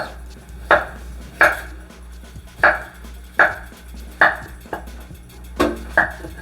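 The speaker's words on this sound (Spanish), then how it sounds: "Y así le perfilamos el grosor que queremos y lo hacemos cubitos." A knife chops papaya into cubes on a cutting board, giving nine sharp, evenly spaced chops over a steady low background hum, with no talking.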